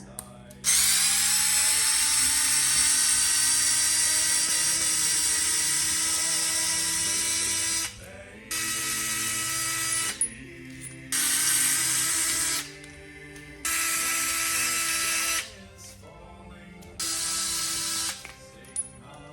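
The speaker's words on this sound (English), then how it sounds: "screwdriver, we're going to take these screws out of this wall mount here" A power screwdriver backs screws out of a toilet paper holder wall mount, a long whining run followed by four shorter high-pitched bursts separated by brief pauses, close and loud.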